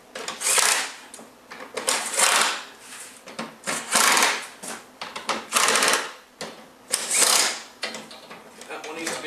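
Ratcheting clicks in repeated bursts as radiator mounting bolts are tightened during a car radiator replacement, close and moderately loud with brief pauses between runs.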